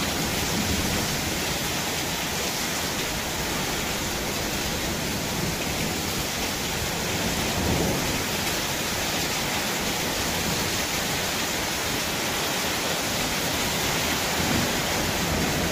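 Heavy rain pouring down steadily, water falling off a concrete slab roof, a dense continuous hiss that stays loud and even throughout with no voices.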